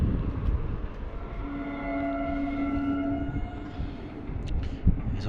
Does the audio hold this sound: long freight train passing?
yes